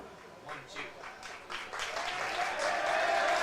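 Players cheering and clapping at an American Legion baseball game as a team gives a standing ovation, scattered claps building into a fuller, louder roar of applause over a few seconds.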